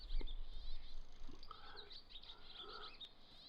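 Birds resembling swallows chirp and twitter in a farming video game, quick high tweets scattered over a quiet background.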